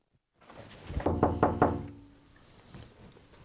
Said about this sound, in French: Il y a quelqu'un qui frappe à la porte.